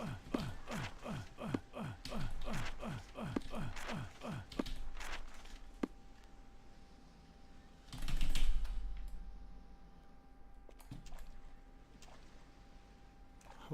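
Rapid bursts of computer keyboard typing during an Ultima IX: Ascension speedrun, quick close clicking for several seconds, then a breathy pause and a few sparse key taps in a quiet room.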